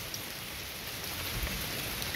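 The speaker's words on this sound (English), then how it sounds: "And she is excited because it is raining." Steady rain falls in a garden, a dense, even hiss of drops spattering on surfaces close by, continuous and fairly loud throughout, with no voices.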